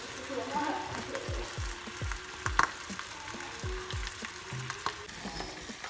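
Spiced food frying in a home kitchen pot while being stirred: a soft, steady sizzle with scattered scraping taps of the spoon, fairly quiet and close, with low background noise.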